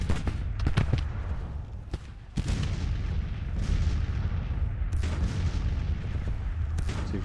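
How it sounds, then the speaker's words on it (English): Cannon from a Civil War battle in Grand Tactician fire in a loud, irregular barrage, with sharp booms and rumbling reports from several guns overlapping over a steady low battlefield roar. "We got all those guns firing on him."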